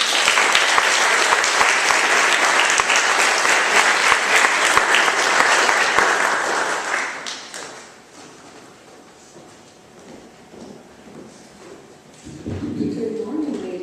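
Audience applause at Buffalo Seminary welcoming speaker Nicole Lee, a steady dense clapping from a room full of people for about seven seconds, then fading out, with a brief murmur near the end.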